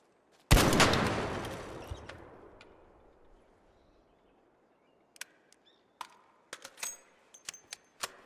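Sci-fi energy guns fire in a video game: one loud blast with a long decaying tail, then after a pause a scattered run of sharp, clipped shots and clicks, close and with no talk.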